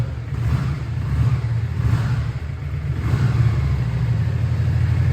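A Yamaha XV with a V-twin engine revs in several swells, its deep, throbbing rumble rising and falling close by with no talking.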